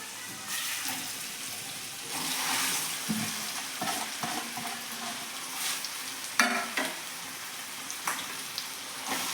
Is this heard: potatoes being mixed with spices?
yes